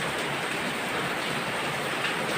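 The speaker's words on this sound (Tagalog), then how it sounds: "Umuulan." Steady, dense hiss of rain falling, constant and unbroken with no voices, like a downpour on a roof or pavement nearby.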